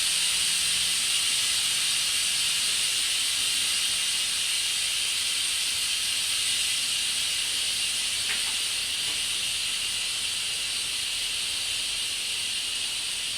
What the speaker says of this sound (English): You can hear this Candido heats up a little quicker.